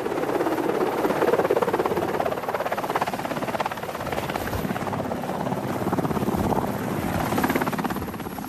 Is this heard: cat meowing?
no